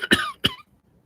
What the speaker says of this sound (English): might have to end this if I keep coughing